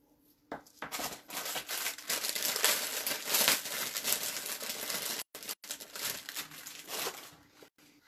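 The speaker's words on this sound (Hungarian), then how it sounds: "Közben ide teszem a papírt" Paper is handled and crinkled close by in a steady, busy stream of rustles and crackles, paused briefly a couple of times, with no talk.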